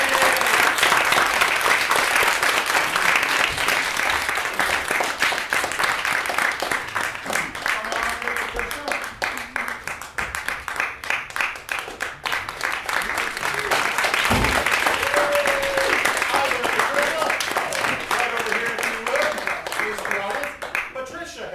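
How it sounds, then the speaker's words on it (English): A theater audience at a live stage show applauding a volunteer coming up on stage, sustained dense clapping and crowd noise that swells and holds for about twenty seconds, with cheering and voices mixed in. "Give Patricia a round of applause."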